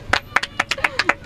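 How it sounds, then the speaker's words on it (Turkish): Children clap for a classmate, a brief round of quick rhythmic applause from a few hands, close and fairly loud. "Arkadaşınızı bir alkışlayın o zaman"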